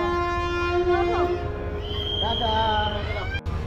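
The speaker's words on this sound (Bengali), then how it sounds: "ড্রাইভার ফ্ল্যাগ উড়িয়ে দিয়েছে, হর্নও মেরে দিয়েছে" A train horn sounds as a passenger train pulls out of a station near Kolkata bound for Digha, its steady tone ringing loud and close over the rumble of the carriages and station noise.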